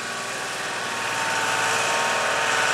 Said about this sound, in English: that's a city tractor